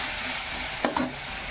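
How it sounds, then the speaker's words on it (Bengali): Tomato, ginger and cumin sizzle in hot oil under a constant frying hiss. A couple of quick spatula stirs scrape and clatter close by partway through. "টমেটোটা একটু ভাজা ভাজা করে নিয়ে এবার এর মধ্যে একটু জিরে দিয়ে দিচ্ছি"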